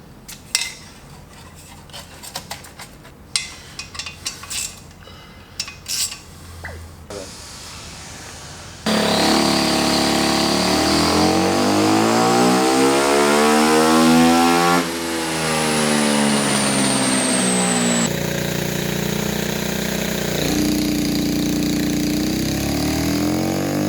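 A turbocharged Honda engine in a go-kart runs a dyno pull through a restrictive muffler, a loud sustained rising and falling engine drone after a stretch of clattering workshop noise, with people talking in the background.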